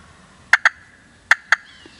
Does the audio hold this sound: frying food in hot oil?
no